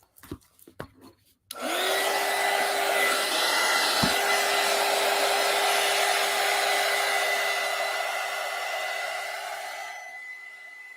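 A hair dryer blows steadily on a collage pumpkin craft, its loud whirring hum starting abruptly after a few brief taps and holding for about nine seconds before gradually fading, with no talking.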